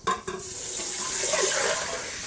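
Beef stock pours into a hot pan of browned beef to deglaze it, a short clatter followed by a steady splashing, hissing stream close by.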